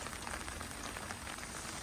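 A brief stretch of rain drumming on a camping tarp at a campsite near Salzburg, Austria: a faint, dense, even patter with no voices.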